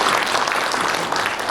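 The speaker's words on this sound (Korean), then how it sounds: "뜨거운 박수 한번 쳐주십시오" Warm applause from a seminar audience at a breakfast forum with Seoul's mayor, honoring a 96-year-old guest; dense, steady clapping fills the room without break.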